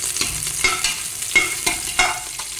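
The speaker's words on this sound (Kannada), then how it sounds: "ಶುಂಠಿ ಮತ್ತು ಹಸಿಮೆಣಸು ಸ್ವಲ್ಪ ಫ್ರೈ ಮಾಡ್ಕೊಳ್ಳಿ" Ginger and green chillies frying in oil in a pan, a close steady sizzle broken by a few scraping stirs of a spoon, with no voices.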